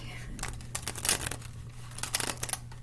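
Tarot cards being shuffled by hand, a run of quick papery riffles and crinkles with a steady low hum underneath, close and fairly quiet.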